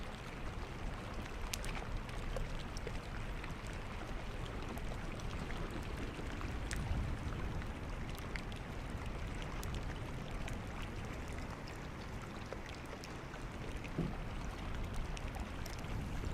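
Soft, steady crackling and trickling of water with tiny clicks and pops throughout, ice floating in the water near a sailboat; no voices.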